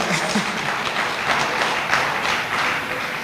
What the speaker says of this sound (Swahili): Bora mpige makofi